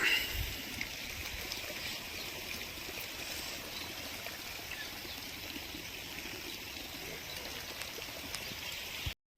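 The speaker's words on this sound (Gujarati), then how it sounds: "વરસાદ પણ ચાલુ થઈ ગયો છે" Steady rain patters and hisses continuously, with a faint trickle of running water underneath, fairly close and even throughout.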